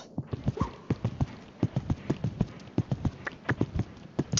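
Horse hooves pound out a fast, steady galloping rhythm in a show-jumping horse riding video game, crisp and close throughout with no talking.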